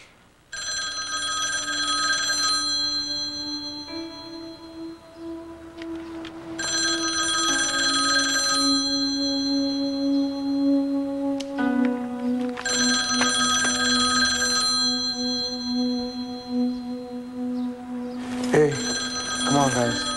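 A telephone bell rings in repeated long bursts with short pauses, steady and fairly close, continuing for about twenty seconds in an indoor scene from a TV drama.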